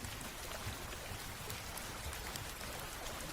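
Heavy, unbroken rain pouring down beside a deserted river ghat in an animated ghost story, a dense, even hiss of falling drops heard on its own with no voices.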